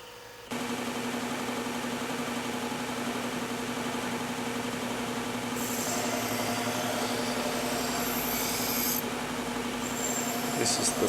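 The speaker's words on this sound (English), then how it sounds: "The belt on this one is a finer grit." Belt sander with a finer-grit belt grinding a knife blade, a continuous close rubbing whir that runs throughout, with brighter scraping bursts midway and near the end as metal meets the belt.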